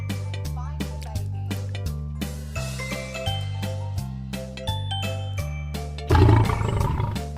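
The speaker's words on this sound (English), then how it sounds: "Lion." A lion roars once, loud and near, as a short rough burst near the end, over a bouncy children's tune with rhythmic bass notes and chimes.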